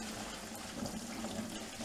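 Water pours steadily into a bucket for mixing tile adhesive during shower tiling, a quiet, even stream of splashing with no break.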